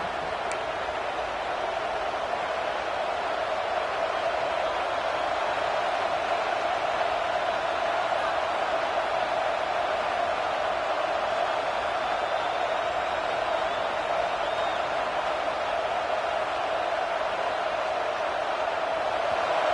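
Stadium crowd at a Nebraska college football game, a dense, steady roar of distant voices filling the whole stretch without pause, with no distinct talk on top.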